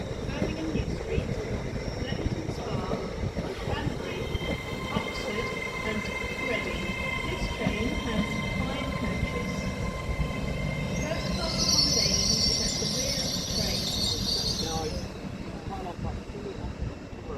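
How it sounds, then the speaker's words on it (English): A train passes through Doncaster station without stopping, a steady rolling rumble with a brief high metallic wheel squeal partway through, heard alongside platform ambience and voices. "The luminous train doesn't stop here."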